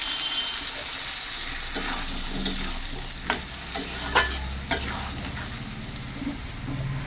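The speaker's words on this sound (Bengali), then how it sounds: "তো মশলাটা দিয়ে ভালো করে আমি কষিয়ে নেব।" Spices sautéed with fried potatoes and dried red chillies in a pan for a shrimp curry, steady sizzling and frying under repeated scraping stirs of a spatula, close up with no talking.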